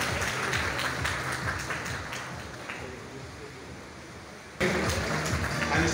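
Audience applause at a college inauguration ceremony for the first BBA/BS batch, a steady dense wash of clapping that fades slightly, then surges louder near the end.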